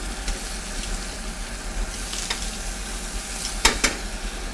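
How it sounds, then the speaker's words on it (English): Shrimp sear in olive oil in a hot pan, a steady close-up sizzle with a low hum underneath and a couple of sharp scraping flurries near the end as the pan is worked. "We got a nice sear on our shrimp."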